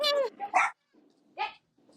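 A dog inside an RV barks at something outside the window, giving a few loud, close barks and short yelps separated by brief silences.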